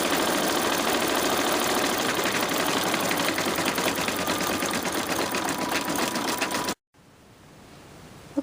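An embroidery machine stitching satin stitches, a fast, loud, steady mechanical chatter from the needle that runs continuously, then stops abruptly near the end, leaving quiet room tone.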